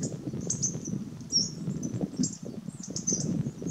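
Various wild birds sing outdoors, with repeated short high chirps and trills scattered through the clip over a steady low rumble of wind or handling noise.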